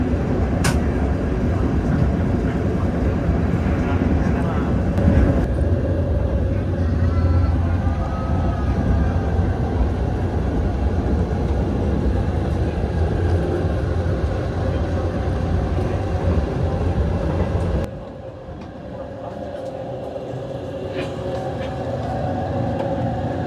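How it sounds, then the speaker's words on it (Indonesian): A Progo passenger train runs on the rails toward Karanganyar station, a steady broadband rumble and rattle from inside the carriage that drops abruptly quieter near the end. "kereta Progo berhenti juga di stasiun Karanganyar ya"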